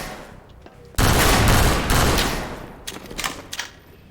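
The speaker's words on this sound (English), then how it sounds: "this is a great example of the SMG2 not being accurate enough in this place" SMG2 submachine gun fire in the game Entropy: Zero 2 opens with a sudden loud sustained burst, fades, then returns as a few shorter bursts and scattered shots.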